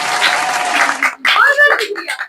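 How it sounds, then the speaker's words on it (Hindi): A small group applauds at a family Eid-ul-Adha visit, the clapping broken by a short gap and mixed with voices talking over it. "तालियां"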